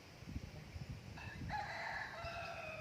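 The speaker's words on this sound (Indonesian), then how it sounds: "Ayam berkokok." A rooster crows twice in quick succession, the second call longer and louder, fairly near over quiet rustling background noise.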